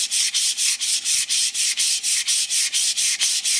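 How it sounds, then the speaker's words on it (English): Steady back-and-forth rasping of 220-grit sandpaper by hand on coarse-textured mahogany along the grain, a rapid even rhythm of strokes with brief pauses between each pass, close and clear. "you can improve that a little bit by just sanding with the grain, rotating it as you go"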